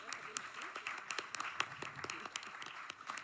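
Quiet applause from an audience at a Barcelona poetry translation slam and recital, a thin spread of individual claps with a voice murmuring underneath.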